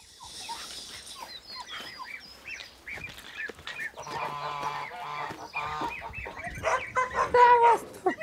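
Several geese honk and cackle in a farmyard, with overlapping calls rising and falling over a few seconds at moderate distance. No one speaks.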